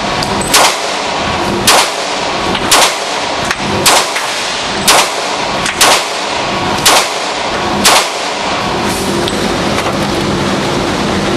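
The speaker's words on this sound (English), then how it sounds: "Daniel Craig believes he has a better gun. The Walther P99, James Bond's new weapon of choice." Walther P99 pistol fired repeatedly at a range, seven or eight sharp loud shots spaced at a fairly even rhythm of about one per second, with no talking.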